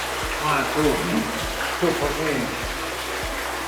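Water from a natural spring in Arpino runs in a constant nearby splash and gurgle, steady throughout, with a soft low pulse repeating beneath the flow.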